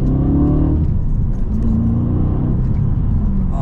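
Audi RS4 B7 Stage 2 with manual gearbox driving steadily, a loud, continuous engine drone rising and falling through gear changes between second and third, heard from inside the car with no talk.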